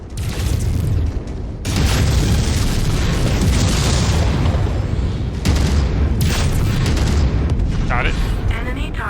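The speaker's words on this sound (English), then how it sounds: "Enemy target destroyed." A mech blows apart in a heavy explosion during MechWarrior 5: Mercenaries combat, a sustained loud roaring blast with rumbling low end and renewed bursts, mixed with ongoing battle noise and a voice talking.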